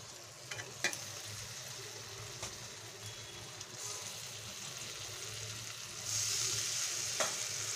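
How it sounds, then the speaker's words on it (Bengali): Fried hilsa pieces sizzle in a pan of spices as they are stirred and turned, a soft, steady crackle with a few sharp clicks of the utensil, with a louder burst of frying near the end. "মশলার সঙ্গে এপিট ওপিট করে মাছটাকে উল্টে পাল্টে নেব"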